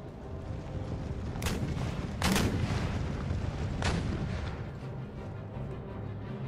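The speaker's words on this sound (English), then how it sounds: "keep blasting the breaches with canister shot" Canister shot artillery fires in Empire Total War during a heroic defence of Warsaw: three or four heavy booms ring out over a constant roar of distant battle.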